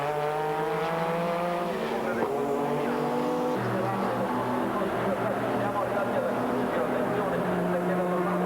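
V12 Ferrari sports racing cars at the 1997 Monza 1000 kilometers, with a loud sustained engine howl whose pitch rises and falls through gear changes while a commentator talks over it.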